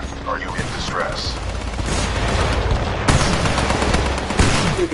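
Heavy sustained gunfire from Titanfall 2, dense rapid shots and booming impacts running loud throughout, with occasional sharper bursts.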